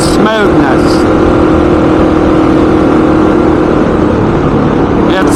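A Honda XR motorcycle fitted with a Keihin FCR39 pumper carburetor gives a loud, continuous engine roar close by, with brief rising revs at the start and again at the end.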